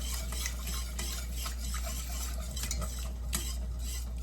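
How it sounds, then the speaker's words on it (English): A spoon stirs milk into a thickening mac and cheese sauce in a pot, giving soft, rapid, continuous scraping and swishing at a low, even level with no voices. "But you gotta keep stirring it at this point here."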